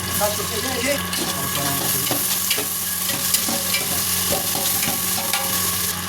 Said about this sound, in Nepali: यो प्याज अनि त्यसपछि क्याप्सिकम आलु हाल्दैछु।